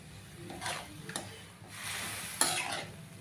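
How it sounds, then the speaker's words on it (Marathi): Dill greens are stirred and sautéed in a pan, with a few soft scraping sweeps of the spatula and one sharp tap against the pan over a faint, quiet sizzle. "भाजी हळू परतून घ्यायची"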